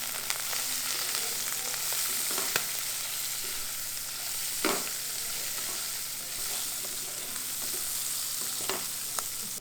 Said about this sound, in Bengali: অল্প একটু আদা কুচি, একটা গোটা টমেটো, হাফ টিস্পুন পরিমাণ শাহি গরম মশলা। সবগুলোকে একটুখানি ভেজে নেব।